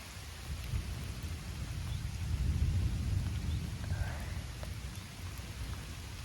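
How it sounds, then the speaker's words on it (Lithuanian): Steady rain falls outdoors through a thunderstorm. A low, rolling rumble of thunder swells and fades beneath the constant patter. "nenoriu būti žaibolaidis ir pakliuvau į lietų"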